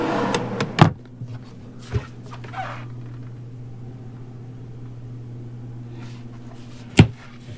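Several RV drawers open and close nearby, giving sharp thumps and sliding clacks at irregular intervals over a steady low hum inside the vehicle.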